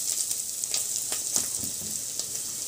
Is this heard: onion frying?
yes